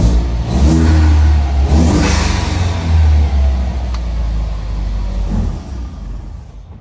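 An EcoBoost-swapped Fox-body Mustang's engine revs up loudly close by, holds a throaty roar, then eases back down and fades toward the end.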